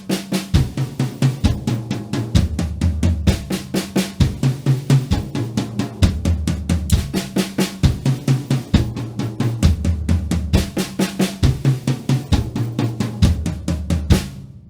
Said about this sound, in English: I'm going to play the bass drum to outline that beat.